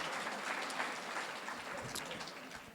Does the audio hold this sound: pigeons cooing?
no